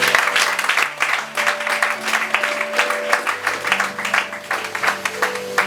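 A church congregation applauding together, a dense, continuous roll of clapping that swells and holds for several seconds, with a sustained musical tone underneath and no clear speech.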